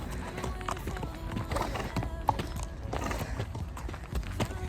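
Hooves of a horse clip-clop steadily at a walk as it is led back to its paddock after grazing, close and moderately loud over faint outdoor background.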